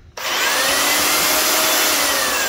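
A Makita belt sander with an old belt still fitted switches on and runs steadily, a loud, close, continuous broadband whir holding at full level after startup.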